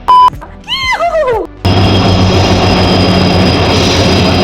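A loud horn blast and shrill whistle sounds, then a heavy continuous rumble of a train pulling into a station, close and steady.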